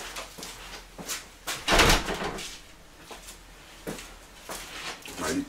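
Door being opened inside a garage during work on a 1999 T-Rex 50 scooter, with a short burst of clatter and rattling at close range amid quieter handling noises.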